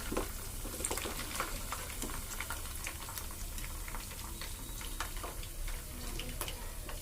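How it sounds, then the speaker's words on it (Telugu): Prawns fry in hot oil in a pan, a continuous close crackling sizzle with scattered pops and bubbling at an even level throughout, with no talking. "మిగిలినవి కూడా ఫ్రై చేసుకుంటాం చూడండి"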